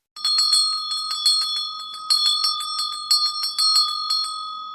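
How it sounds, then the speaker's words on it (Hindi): A hand bell rings loudly and repeatedly in quick, uneven bursts of bright metallic clangs, close and alone with no other sound. "जेब से घंटी निकालता है और जोर से बजाता है"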